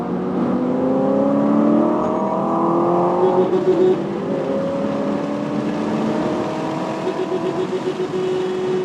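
A Toyota GR86 sports car laps a race track through the final turns, its engine droning and climbing through the revs, then easing and rising again, loud and close, with a steady whirring tone and no talking.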